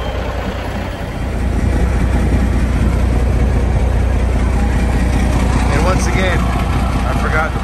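A Kenworth truck engine rumbling to life and then idling, a deep heavy diesel drone that swells after a second and holds steady and loud, with a voice talking briefly over it.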